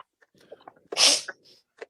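A single sharp sneeze, close and loud, preceded by a few quiet breaths and small mouth sounds.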